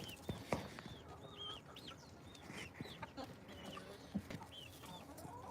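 A morning flock of chickens out of the coop clucks and squawks in a busy, overlapping chorus, with a rooster among them. The calls are fairly close and steady, with no talking.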